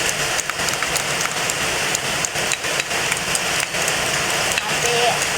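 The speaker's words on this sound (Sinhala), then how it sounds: "අපේ මේ පැත්තට අද උදේ ඉඳලා වහිනවා." Steady rain falls through a kitchen in Sri Lanka as sugar is caramelized, a dense even hiss of drops on surfaces that runs throughout, with brief dips and soft clatter mixed in.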